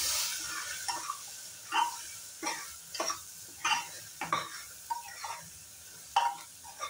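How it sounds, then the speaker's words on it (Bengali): Vegetables with turmeric powder fry in a pan for khichdi, giving a soft sizzling hiss with repeated scraping stirs at a steady pace, fairly quiet and close. "হলদি পাউডারটা দিয়ে আমি এখন খুব সুন্দর করে ফ্রাই করে নেব সব কটা জিনিস"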